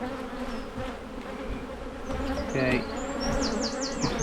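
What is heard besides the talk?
honeybees buzzing around beekeeper at hive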